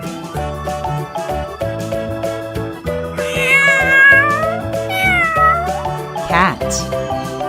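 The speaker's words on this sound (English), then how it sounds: "Cat." A wooden animal sound toy plays a cat's meow, a few clear meows rising over a steady background music track, fairly loud and close, with no talking.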